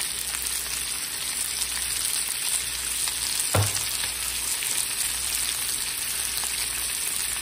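Fish frying in a pan with ground pepper, a loud continuous sizzle close up as it is stirred, with one brief knock partway through and no talking.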